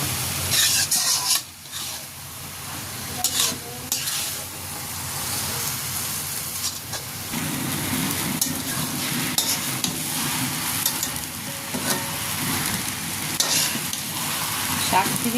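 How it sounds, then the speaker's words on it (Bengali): Kolmi greens, water spinach, fry in a pan until their released water cooks off, with a continuous close sizzle and frequent scraping stirs of a utensil against the pan, no voices. "শাকগুলো ভালো করে ভাজা ভাজা হয়ে গিয়েছে"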